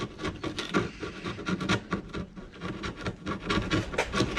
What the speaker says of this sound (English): So I'll clean it up with a spatula, just to make sure that we have a clean surface to sit on.